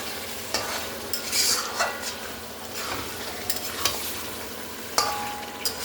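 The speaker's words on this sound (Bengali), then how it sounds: "এবার দেখুন মাংসটাকে কষছি, আলু দিয়ে ভালো করে মাংসটাকে কষছি।" Mutton and potatoes stir-fried in a pan for a kosha curry, with steady close sizzling and repeated scraping clinks of a spatula at an uneven rhythm.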